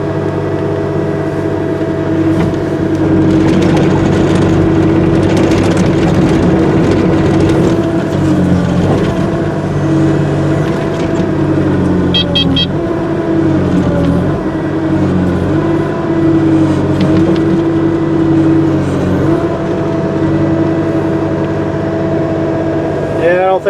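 A heavy earth-moving machine's diesel engine runs loud and continuous on a far west Texas ranch, labouring and sagging under load while digging soil at a pond, its rumble steady with wavering pitch throughout.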